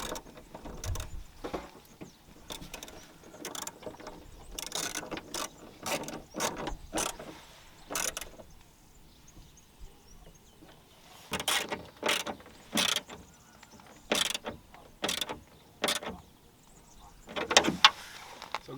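A repaired window regulator in a VW Polo drives the glass in a close mechanical whir, rising and falling several times with short bursts of motor and gear noise separated by brief pauses.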